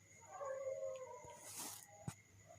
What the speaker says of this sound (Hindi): कुत्तों की बहुत आवाज आ रही